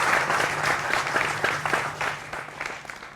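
An audience claps through a televised political debate panel welcome, a dense round of applause that swells and fades slightly, with a few sharp individual claps standing out.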